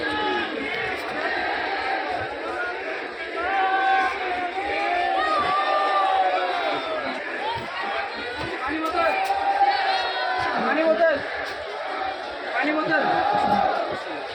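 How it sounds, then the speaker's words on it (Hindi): A large, dense crowd fills Deshnok railway station, many voices overlapping in a steady, loud murmur with occasional shouts rising and falling throughout, nearby and constant. "बहुत काफ़ी भीड़ है दोस्तों।"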